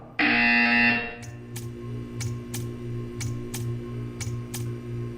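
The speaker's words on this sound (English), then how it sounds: "You will hear a buzzer." Portal 2 test-chamber buzzer: a single loud, steady electronic buzz lasting about a second, followed by a low hum with regular faint clicking ticks.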